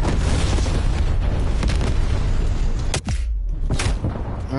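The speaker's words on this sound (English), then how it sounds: "Enemy frag grenade." A frag grenade thrown by an enemy explodes in Call of Duty's Nuketown map as a deep booming blast near the three-second mark. It sits amid continuous loud game noise with a brief dip just before and a sharp burst after.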